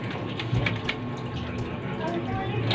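Tap water runs steadily over raw chicken pieces being rinsed, a soft continuous splashing with a few brighter drips and clinks, and a voice talks over it.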